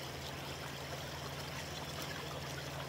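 Red sauce from canned fish pours out in a steady, continuous wet trickle, close and even in loudness for about three seconds, with a low hum underneath and no talking.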